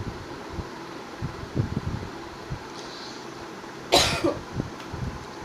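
A woman with a cough gives a few soft coughs and throat sounds, with one louder burst near the end, over a faint hum of background noise.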